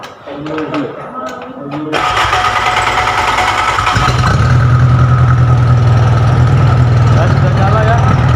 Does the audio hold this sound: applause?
no